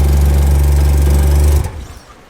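A JDM car engine running while it warms up, a loud steady low rumble that cuts out abruptly after about a second and a half, leaving quiet fading noise.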